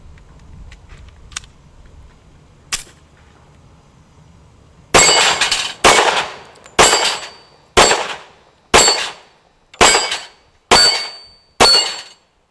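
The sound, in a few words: gunshots from a Glock 27 .40 S&W pistol at range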